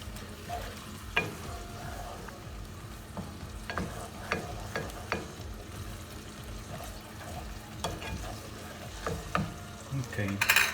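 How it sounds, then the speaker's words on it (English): Chicken curry simmering in a pan, with soft bubbling and scattered scrapes and taps of a spoon stirring the sauce, quiet and close with no talking. "Let it simmer into it."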